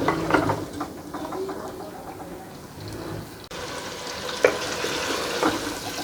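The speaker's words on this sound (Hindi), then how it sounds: "अब इसे शामिल कर देंगे। और इसे 5 मिनट के लिए फ्राई करेंगे।" Chicken meat frying in a pan, a steady sizzle with stirring scrapes and a sharper clatter partway through.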